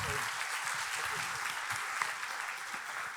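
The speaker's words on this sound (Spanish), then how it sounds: "lo dijo Martín Vázquez, un enorme aplauso para él, para todos los oradores" An audience at a genomics conference applauds the speakers, a steady wash of clapping from many hands, moderately distant and even throughout.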